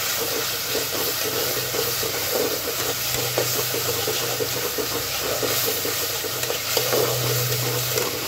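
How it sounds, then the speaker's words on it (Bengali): Continuous hiss and bubbling of spices, onion and garlic frying in a pan, with occasional stirring clinks, close up and without speech. "মশলা পেঁয়াজ রসুনটাকে একটু হালকা ভেজে নেব"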